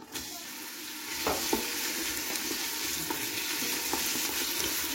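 Onions drop into hot sunflower oil in a pressure cooker and set off a close, steady sizzle that swells after the first second, with light scraping stirs and occasional pops, no talk.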